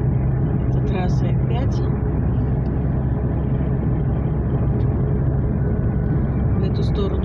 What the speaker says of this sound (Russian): Это трасса